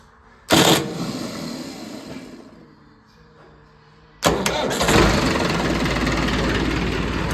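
A motor vehicle engine is cranked with a faulty starter switch: a sudden loud burst of starter noise that fades away, a quieter pause, then a second start that catches into a steady running idle.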